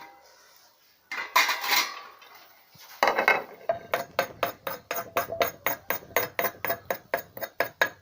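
A spoon scoops fish and fried food onto a plate, with a rustle and clatter early on followed by a run of regular metallic clinks and taps of utensil against dishware, close and crisp.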